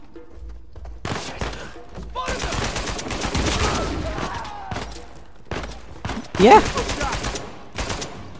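Gunfire from the video game Uncharted 4, including shotgun blasts, comes in loud bursts and rapid volleys, broken by short pauses, with a voice speaking briefly between them.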